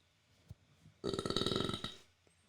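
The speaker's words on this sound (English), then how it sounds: "Why wouldn't you burp into the microphone?" A single long burp into a microphone, loud and close, lasting about a second with a gurgling, rippling texture, preceded by a small click and quiet room tone.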